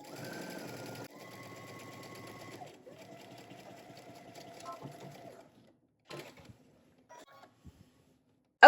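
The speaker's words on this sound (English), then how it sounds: "We're gonna back stitch when we get to our dot." A sewing machine runs a seam in several bursts, stopping and restarting for back stitching, its whirring motor and rapid needle clatter close and fairly quiet, followed by a few small handling clicks.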